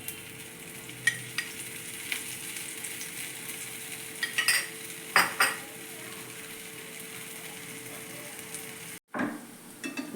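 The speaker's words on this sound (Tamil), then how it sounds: "இப்போ அடை ஊற்றலாம். சுத்தூர் ஆயில் ஊற்றிக்கலாம்." Raw-rice adai batter fries in oil on a hot pan with a steady close sizzle, broken by scattered clinks and scrapes of a utensil against the pan and one brief gap near the end.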